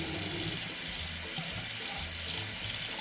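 Warm water runs steadily from a tap during glass cleaning, a continuous close splashing flow with no talk.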